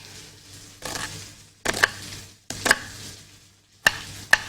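Medium-sized onions being chopped with a knife by a cook wearing gloves in a kitchen, giving a few sharp, separated cutting knocks and scrapes against a board, close and fairly quiet, with no voices.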